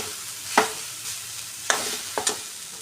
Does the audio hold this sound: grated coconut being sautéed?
yes